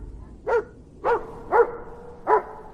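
Patrol dogs bark four times at a steady interval, clear single barks at moderate distance against a quiet background.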